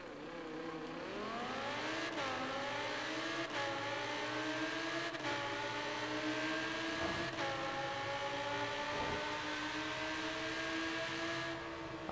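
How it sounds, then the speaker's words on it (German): A V10 sports car in Forza Horizon 3 revs up through several gears, its sharp engine whine climbing, dropping briefly at each shift and climbing again, loud and steady with no talking. "Alter, der Sound ist ja mega geil. Dieser V10, der ist."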